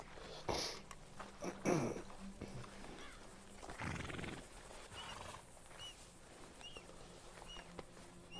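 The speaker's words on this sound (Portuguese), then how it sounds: "Shire é um bom cavalo." Shire horse in Red Dead Redemption 2, giving a couple of short neighs and snorts with soft hoof clops amid quiet game ambience, nearby and moderately loud.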